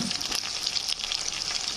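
Bell peppers frying in oil with garlic, peanuts, red chili powder, turmeric and salt give a continuous close hiss and crackle of sizzling at an even level, with no voices.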